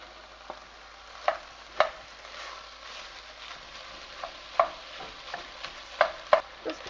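Hamburger meat is chopped and stirred in a pan as it browns. A soft sizzle runs underneath, broken by scattered sharp scraping taps from the utensil against the pan, all heard up close.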